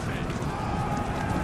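Horses gallop during a battle in the video game Total War: Thrones of Britannia, a brief dense rumble of many hooves blending into a continuous thudding roar.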